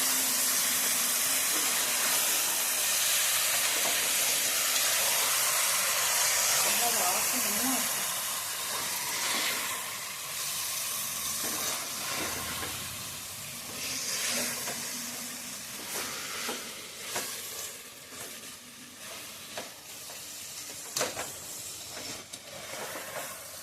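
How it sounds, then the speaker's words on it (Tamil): Chicken pieces stirred in a pot while cooking biryani, a steady steamy hiss and sizzle running throughout with scattered scraping clicks of the spoon, fading slightly toward the end as a voice talks over it. "சிக்கன் போட்டு நல்லா கிண்டி விடுவோம்."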